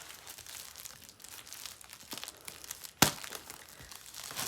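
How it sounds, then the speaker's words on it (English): Plastic packaging crinkles and rustles up close as a vacuum-packed Temu package is cut open, with a sharp tearing snap near the middle followed by more crinkling. "I'm going to have to cut it open."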